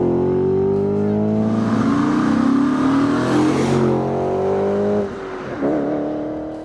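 An Audi RS4 B7 sedan's naturally aspirated 4.2 litre V8 revs loudly and close, its pitch climbing steadily for several seconds before a brief lift and a second rising rev at the end.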